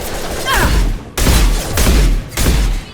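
Gunfire in the video game Mass Effect 2, three heavy thudding bursts of shots in quick succession, loud and close, with brief gaps between them.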